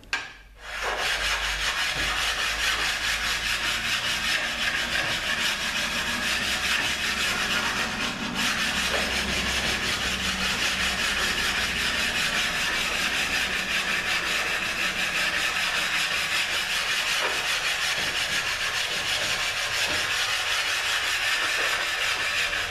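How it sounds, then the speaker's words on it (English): A ZF5HP24 transmission valve body is flat sanded with a stone, a steady, close rasping rub that continues unbroken after a brief opening knock, with no speech. "I'm gonna get my stone so we can flat sand this"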